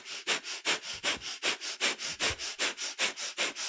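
Kundalini yoga breath of fire: rapid, rhythmic nasal breathing, about four to five sharp exhalations per second, close and steady throughout, with no talking.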